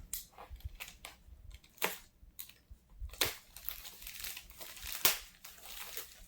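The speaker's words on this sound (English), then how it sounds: "Let's cut this tape." Packing tape on a mail envelope is being cut, heard up close and quiet as scattered crinkling snips and rustles of paper and plastic, with brief louder crackles between softer handling noises.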